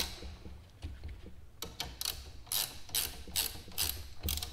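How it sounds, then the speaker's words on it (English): A 19 mm wrench tightens a spring compressor on a 3rd gen Toyota 4Runner Bilstein 5100 strut, giving a series of close, sharp ratcheting clicks in uneven bursts over a quiet background. "tighten a few turns on this side, tighten a few turns on this side, and it will compress the spring"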